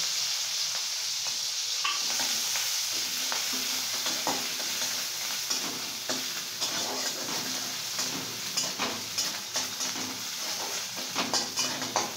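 Chopped green chilli and ginger paste frying in hot ghee and oil, a continuous close sizzle with repeated scraping stirs and small clatters throughout.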